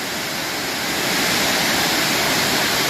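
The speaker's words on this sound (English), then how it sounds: "This is the Ricketts waterfall." Ricketts waterfall at Ricketts Glen State Park pours in a loud, constant hiss of cascading water, close and unbroken, swelling slightly after the first second with no voices.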